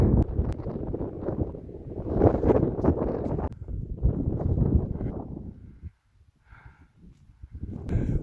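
Strong mountain wind in the snowy Carpathians, with the summit slope frozen to solid ice, roars loudly against the microphone in sustained gusts, briefly dropping near silence before surging again.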